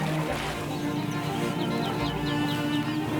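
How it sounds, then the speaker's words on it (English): Egyptian geese call in a wildlife setting beside water in Tanzania's Ngorongoro Crater, with a series of short honking notes in quick succession over a steady background wash of water and ambient noise. "like these Egyptian geese"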